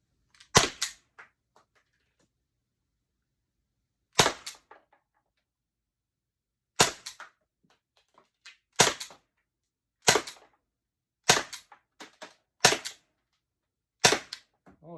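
Umarex T4E Glock 17 gen 5 CO2 pistol firing nylon balls, sharp loud cracking shots, single and in quick pairs, spaced a few seconds apart with silence between.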